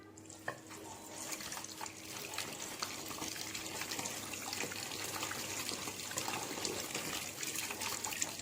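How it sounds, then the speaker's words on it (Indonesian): Tap water runs steadily over hands being rinsed in a sink, a continuous soft trickle and splash with small shifting surges, no voices, after handwashing at a clinical skills practice. "Setelah itu kita bilas."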